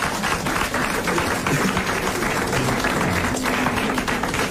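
Studio audience applauding in a 1983 French comedy show, a full, continuous roar of clapping held at even loudness throughout, with a faint murmur underneath.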